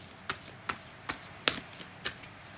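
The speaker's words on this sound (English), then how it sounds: "she wanted just a small shuffle" Crisp, quiet riffles of a deck of cards being shuffled for a reading, six or so short snaps spaced roughly evenly, close and alone without talk.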